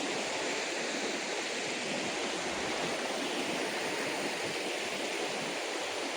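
A river rushes with a constant, close, full hiss of flowing water, steady from start to finish with no voices.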